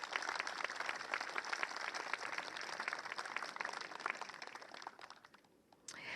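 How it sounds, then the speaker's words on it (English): Audience at a community center ribbon-cutting ceremony applauds staff members, dense steady clapping from a crowd at moderate distance that thins and fades near the end. "can we please get a round of applause for the staff members?"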